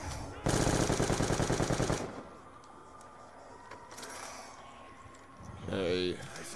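Rapid automatic fire from a light machine gun in Black Ops 2 Zombies, one loud burst of about a second and a half, then quieter game ambience and a short mechanical whir near the end.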